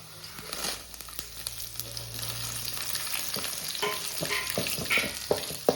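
Peanuts and dried red chillies fry in a pan for a gonguura (roselle) pickle, giving a close, steady crackling sizzle with scraping stirs and small pops, under a faint low hum.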